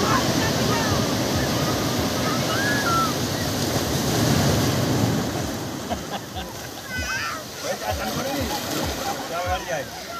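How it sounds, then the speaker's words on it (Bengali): Big ocean waves roll in and crash on a beach, a loud, continuous surf roar with wind buffeting the microphone and nearby voices over it. "দেখ একটা বড় ঢেউ আসছে।"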